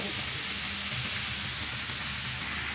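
Onions, carrots and mushrooms frying in a little oil in a pan, a steady loud sizzle with faint stirring, no talking.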